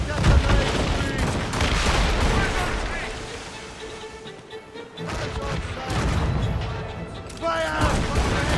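Ship cannons fire in Assassin's Creed Rogue in repeated heavy bursts and rolling booms, with a dense naval battle din and shouting voices throughout.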